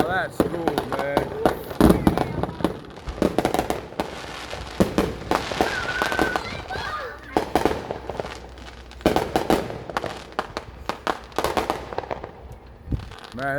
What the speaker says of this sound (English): Man, that's some legal fireworks.